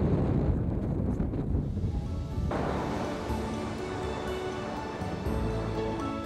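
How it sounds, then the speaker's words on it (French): Strong wind buffets the microphone in loud, low gusts, roaring steadily with rough bursts throughout, on the Col de la Lombarde mountain pass at 2350 metres in winter. "Col de la Lombarde, 2350 mètres et beaucoup de vent."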